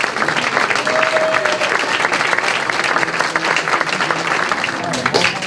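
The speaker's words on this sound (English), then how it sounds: "There's applause. There's a standing ovation for these veterans as they get off the plane." Sustained applause and clapping from a waiting crowd giving veterans a standing ovation as they step off a plane at Washington International, loud and steady throughout, with voices mixed into the din.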